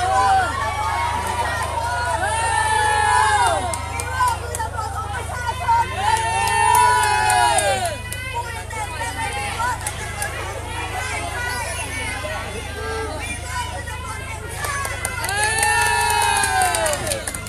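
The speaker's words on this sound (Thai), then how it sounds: "ผู้ชุมนุมชู3นิ้วครับแล้วพร้อมกับตะโกนคำว่า Vivo" Protest crowd in Bangkok outside a police station, many voices shouting and chanting in repeated rising bursts over a busy hubbub, loud and close, with some cheering.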